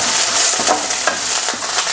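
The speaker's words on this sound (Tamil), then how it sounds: "பூண்டு கொஞ்சம் வதக்கிடலாம்." Garlic sautés in hot oil with mustard seeds and curry leaves in a pan, making a loud, close, continuous sizzle broken by short stirring scrapes.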